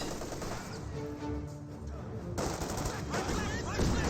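Thompson submachine guns fire in bursts during a Company of Heroes 2 battle, rapid rattling volleys mixed with other battlefield gunfire.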